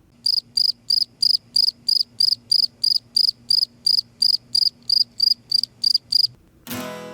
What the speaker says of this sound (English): We will sit here instead listening to the sound of crickets, because frogs like crickets, right?